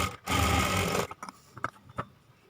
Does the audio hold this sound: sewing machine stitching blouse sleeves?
yes